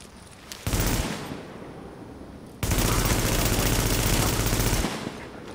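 Automatic gunfire in The Division video game comes as a short burst, a brief pause, then a longer sustained volley, loud and dense.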